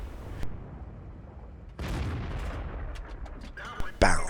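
Tank cannon fire in an online tank battle game booms in heavy, close blasts with rumbling tails, a sharper crack arriving near the end.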